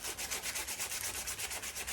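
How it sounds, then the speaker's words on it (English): Steady rhythmic strokes of folded sandpaper rasp back and forth on a curved wooden spoon close up, a dry scratchy sound repeating evenly about eight times a second. "So while I'm sanding back and forth in here, the paper is bending to suit the curve"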